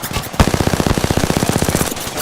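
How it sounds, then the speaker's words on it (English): A fast, close burst of automatic gunfire in a battle royale video game, a rapid even stream of sharp shots hitting the player, loud and continuous for about two seconds. "Shots fired, and they're hitting me."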